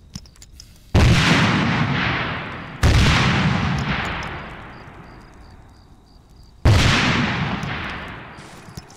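Three loud, close grenade explosions in the military shooter Arma 3, each a sharp blast at roughly two- to four-second intervals, trailing off into a long rumbling decay with no talking over them.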